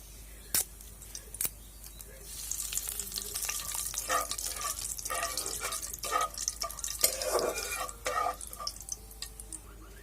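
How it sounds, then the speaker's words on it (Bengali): Cumin seeds, garam masala and a bay leaf crackle in hot oil, with sharp pops at the start, then a rising sizzle with irregular spitting bursts and stirring, close and moderately loud. "ওই তেলে জিরা দিয়ে দিচ্ছি, গরম মশলা, তেজপাতা একটি"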